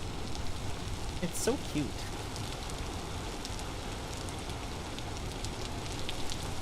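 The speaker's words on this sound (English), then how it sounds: "So we can hear the rain because the roof area is open." Rain in Vintage Story patters steadily through an open roof, a dense, even hiss of drops near a fire pit, with a brief spoken voice early on.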